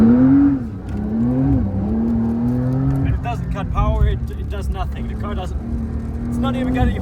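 Porsche 992 Dakar ploughing through deep snow, the engine holding a steady drone with pitch swells while someone speaks over it in the middle, close and fairly loud throughout.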